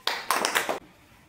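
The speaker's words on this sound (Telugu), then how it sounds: "Very good. క్లాప్స్." Children in a primary classroom give a short burst of clapping, roughly four or five close, crisp claps over under a second, then quiet room tone.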